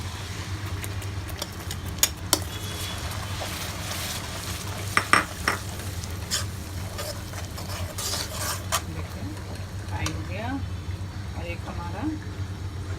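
Onion and tomato puree sizzles and fries steadily in a pan for butter chicken, with a few sharp spoon clicks and scrapes against the pan along the way.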